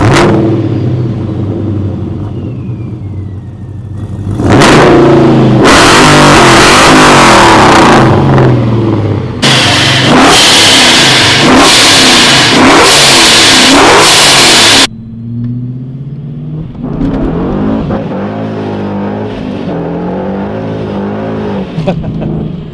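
A procharged 640 hp Dodge Challenger revving and accelerating hard, loud bursts of engine roar with a rising supercharger whine, then gear changes and easing back to a lower drone, heard from inside the car.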